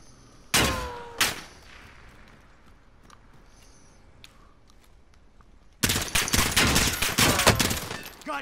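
Gunfire in Call of Duty Modern Warfare: two sharp close shots, a quieter lull, then a loud sustained burst of rapid automatic fire.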